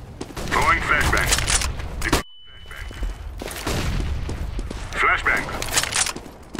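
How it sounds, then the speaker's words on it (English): During a Counter-Strike match, dense bursts of gunfire and cracks fill the scene, with a brief silence broken by a high ringing tone, like the aftermath of a flashbang, before the shooting resumes. "Going flashbang."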